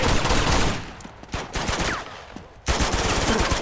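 Rapid gunfire from a shootout in the video game Uncharted 2: Among Thieves: loud bursts of automatic fire, a brief lull with scattered shots, then another dense volley.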